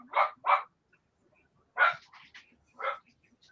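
A dog barks in a quiet home, two quick sharp barks, a pause, then two more spaced barks, close and clear with a soft whine between.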